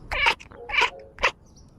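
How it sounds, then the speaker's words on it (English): Several cats playing together indoors, giving three short meow-like calls spaced about half a second apart, fairly close and clear with no talk over them. "That's nice seeing cats doing cat stuff."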